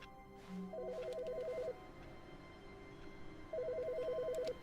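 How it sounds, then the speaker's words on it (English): Telephone ringing in The Stanley Parable video game: two trilling electronic ring bursts about a second long each, separated by a pause, clear and fairly close over a quiet room tone, with no talk. "The phone's ringing?"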